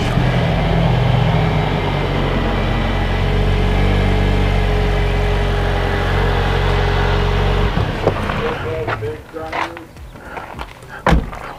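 Jeep JL idling steadily with a low, constant engine drone, which cuts off near the end, leaving a few sharp clicks and knocks nearby.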